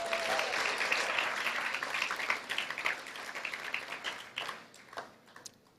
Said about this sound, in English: I expected applause.